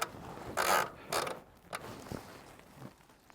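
A ratchet strap threaded through an e-bike tyre is cranked tight on an electric hitch rack, with a few short, close ratcheting clicks and creaks in bursts that taper into fainter mechanical ticks.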